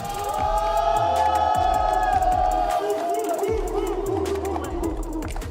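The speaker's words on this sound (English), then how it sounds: "You can hear the crowd's response to the man they call Wolf, Hamzat Abayev," Crowd at a PFL Europe MMA ceremonial weigh-in in Brussels, Belgium, responding loudly to a local fighter, with sustained cheering, whoops and hubbub under a booming amplified voice and thumping background music.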